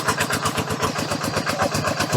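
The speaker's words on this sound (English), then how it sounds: "And that thing pumps a lot of water." An engine-driven water pump chugging steadily nearby at a pond, a continuous rapid rhythmic throb with no pauses.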